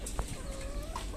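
Desi chickens cluck on a small farm, a few short clucks and a drawn-out call close by over a faint background hum.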